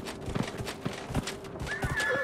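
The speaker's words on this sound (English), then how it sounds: "Let's get the horse out here" A horse in Dragon Age Inquisition whinnies over a steady run of clip-clopping hooves, close and clear, with a second high neigh near the end over continuing ambient game sound.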